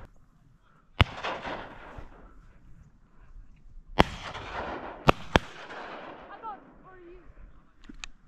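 Shotgun blasts from a duck hunt at Summer Lake, Oregon: one sharp report, then a pause and three more shots in quick succession, loud and close over open-air ambience, with a duck call and voices around them.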